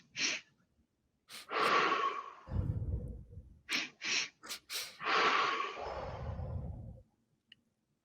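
A person demonstrating a breathing technique: two quick sharp inhales through the nose, then a long audible sighing exhale, and the pattern repeats once more, close to the microphone with no words spoken.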